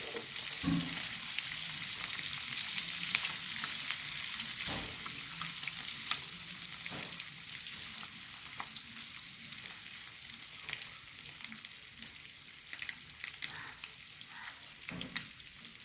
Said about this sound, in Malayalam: വറുത്ത മുട്ട പൊട്ടി തെറിക്കുന്നുണ്ട് കേട്ടോ